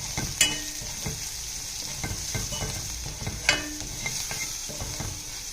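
Curry stirred in a pan after turmeric goes in, a low steady sizzle with repeated scraping and clinking of the spoon against the metal, close by and without speech.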